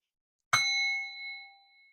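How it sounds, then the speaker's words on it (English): A single strike on a prayer bell rings out cleanly, a bright struck onset followed by a sustained, slowly fading metallic ring lasting about a second and a half, alone in silence. "So watch your ears, and here comes the bell,"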